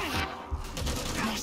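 Rapid gunfire from the video game Darktide crackles in a short dense burst, with a voice talking over it.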